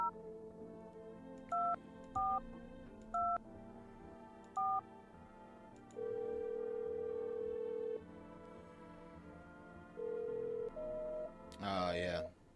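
Telephone keypad dialing in the video game No I'm Not a Human: a run of short, clear DTMF beeps, then longer sustained tones, and a harsher burst of electronic noise at the end.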